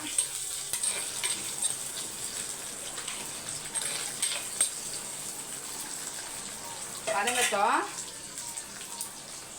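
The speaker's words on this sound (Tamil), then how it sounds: "கடுகு நல்லா பொரியுது" Mustard seeds crackle in hot oil with frying onions, green chilli and curry leaves, making a steady soft sizzle with faint pops, a short louder stir near the end and a brief voice in the background.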